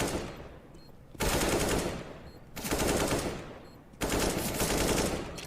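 Automatic gunfire from the video game CS:GO comes in three long, loud bursts of rapid shots, each lasting over a second, separated by brief lulls.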